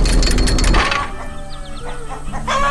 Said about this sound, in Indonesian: Ayam-ayam ini sangat disiplin ya.